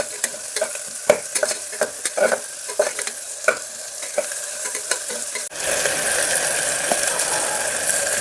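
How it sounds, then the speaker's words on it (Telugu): Chopped green chillies with onion and tomato fry in a pan for mutton keema curry. A spoon scrapes and stirs in sharp, irregular strokes, then a dense, even sizzle takes over, close and with no talking. "ఒక 4 పచ్చిమిరపకాయలు కట్ చేసి వేసిన. ఇది బాగా ఫ్రై అవ్వాలి."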